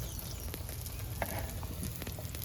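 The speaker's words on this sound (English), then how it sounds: "you see how much it's bubbling there?" Fry bakes bubble and sizzle in hot oil, a steady close crackle of frying with small pops and no talking.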